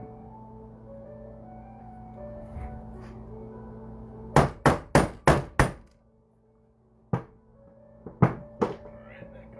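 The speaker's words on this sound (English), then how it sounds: "This camera's probably gonna fall when I start hammering" A hammer strikes a punch on an 1820 half dollar coin being formed into a ring: a quick run of five sharp metallic blows, then several more spaced hits, over a low steady hum.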